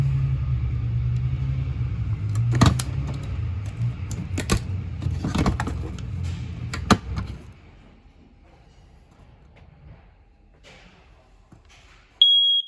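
A loud, shrill electronic smoke detector alarm beep cuts in near the end inside a 2022 Tracer 31BHD travel trailer, after a steady low rumble and some clattering knocks fade to quiet.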